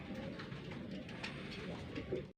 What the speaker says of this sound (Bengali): এখানে একজোড়া মশালদম কবুতর আছে